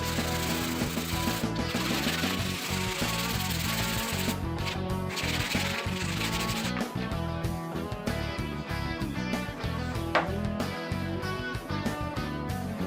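Continuous back-and-forth rasping of sandpaper on a wooden katana blade, close and fairly loud, with brief pauses between strokes.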